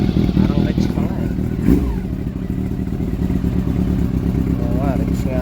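A Honda CB400 motorcycle engine runs close by with an uneven, rough idle and a cylinder misfire, its steady throb broken by brief blips and clatter while people talk over it.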